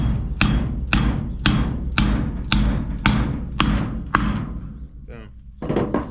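A bearing race on a homemade car hauler is driven in with a series of about eight evenly spaced, loud metallic hammer blows, each ringing briefly, followed by a pause and a softer strike at the end once the race bottoms out.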